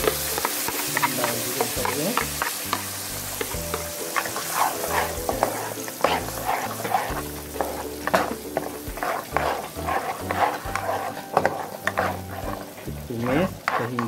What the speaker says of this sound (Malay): tumis sehingga dia naik minyak.